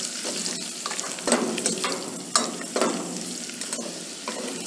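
Julienned ginger sautéing in a hot pan for a kadhai gravy, with a steady oil sizzle and a few louder spatula stirs and scrapes, close and continuous, with no voices.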